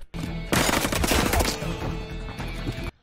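Gunfire in a sniper action film, a dense burst of rapid shots erupting loudly after a brief lead-in and continuing as a sustained volley before cutting off abruptly.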